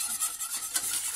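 Eggs and sugar are stirred together for a lemon meringue cream, a continuous soft scraping and swishing of a utensil against a bowl with steady rhythmic strokes, close and moderately quiet, no talking.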